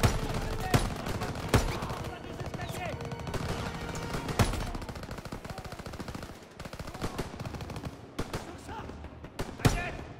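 Call of Duty WW2 battle gunfire, dense rapid bursts and single sharp cracks rattling through the whole stretch, loud and close with scattered louder shots.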